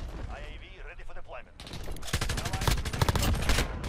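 M4 rifle fire in the video game Call of Duty Modern Warfare, a fast rattle of close shots that starts around two seconds and grows louder after a stretch of quieter game sounds and voices.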